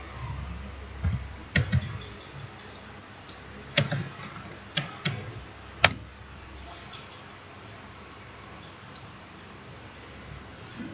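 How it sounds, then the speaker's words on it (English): Web address typed on a computer keyboard in the Chrome browser: a handful of sparse, soft key clicks in small clusters over the first six seconds, then quiet room noise with no talking. "type getbootstrap.com"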